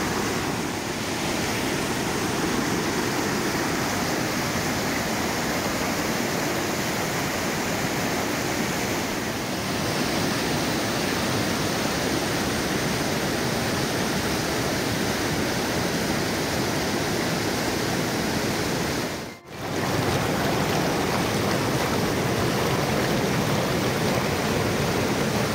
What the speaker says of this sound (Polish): Rzeka w górach Tien Shan.